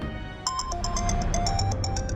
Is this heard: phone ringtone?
yes